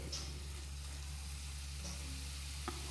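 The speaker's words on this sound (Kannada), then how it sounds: "ಒಂದು ಸ್ವಲ್ಪ ಹೊತ್ತು ಫ್ರೈ ಮಾಡಿ" Chickpea greens fry in a pan, a faint, even sizzle with a few soft clicks over a steady low hum, quiet throughout.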